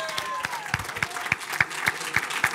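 Scattered hand claps ring out from an audience at an improvisation tournament, the Bol d'or d'improvisation, honouring musician Guillaume Parent. The claps come sparse and roughly evenly spaced over a soft background.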